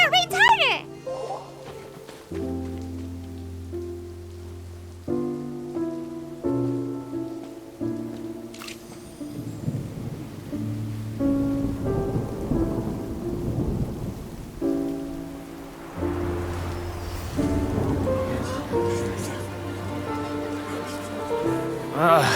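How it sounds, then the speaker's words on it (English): Rain and thunder in the Genshin Impact video game roll on steadily beneath a prominent melodic musical score, with low rumbles and a wash of rainfall blending into the music throughout. "Oh, huh? It's raining!"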